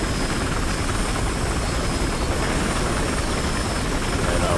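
Steady, dense helicopter rotor noise in the video game Battlefield Hardline drones on without a break, loud and close throughout.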